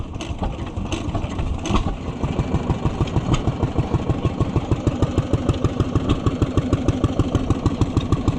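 An antique stationary engine at a county antique machinery show runs at idle, loud and close, settling into an even, rapid chugging beat after a brief rougher start.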